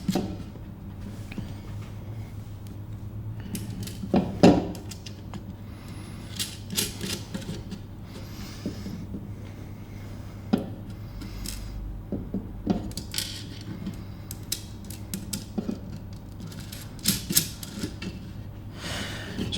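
Nuts are threaded and tightened onto bolts during hardware assembly of a drone frame, giving close, irregular metallic clicks, taps and clatters over a steady low hum, with no one talking.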